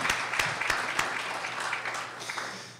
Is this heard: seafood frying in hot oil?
no